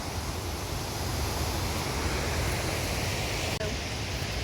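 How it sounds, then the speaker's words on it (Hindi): Steady broadband rush of a flowing waterfall beside the Hemkund Sahib mountain trail, continuous and moderately loud, with a brief click near the end. "और ये रहा वो झरना बहता हुआ।"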